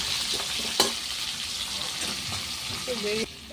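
Prawns and egg frying in a pan with bay leaf, cinnamon and cardamom for a quick pulao, a steady hiss of sizzling oil with a few sharp utensil clinks and stirring scrapes, close by and fairly loud.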